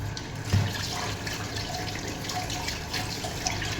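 A metal sieve being scrubbed under a running kitchen tap, with steady splashing water and small clinks and knocks, close and moderately loud, and no talking.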